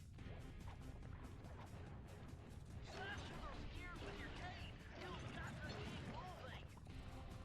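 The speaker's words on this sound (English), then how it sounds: "after smashing through those with the cane" In the Sly Cooper and the Thievius Raccoonus video game, a cane smashes through objects, with repeated crashing and clattering impacts under game music and effects.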